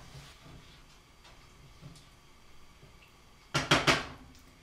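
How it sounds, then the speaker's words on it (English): Sugar and orange juice stirred in a pot on a stove over medium heat, a faint scraping swish under low background hiss, then a few loud close clanks of the utensil against the pot near the end. "I'm just going to make sure and stir all the sugar up with the orange juice"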